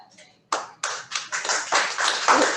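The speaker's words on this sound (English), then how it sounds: "We've never had applause for this." A small group claps at the close of a chamber music chat, beginning with a few scattered taps and building into steady, close applause that lasts a couple of seconds.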